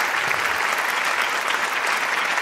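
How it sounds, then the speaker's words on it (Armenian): A music contest audience gives two singers steady, dense applause, with many hands clapping evenly throughout. "Այո, կարելի է բարձր ծափարել Էլմիրային եւ Տաթևիկին։"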